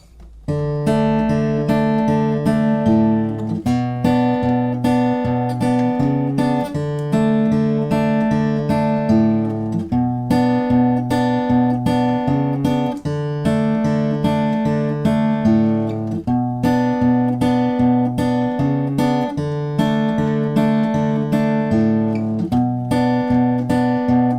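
Fingerpicked acoustic guitar plays the two repeating chorus chords of a song in a steady rolling pattern, the chords alternating every few seconds, clear and close throughout.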